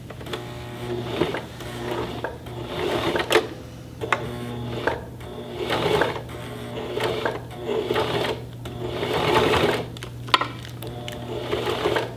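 A sewing machine stitching a card case runs in short repeated bursts with brief pauses between them, its rapid mechanical chatter close and clear over a steady low hum.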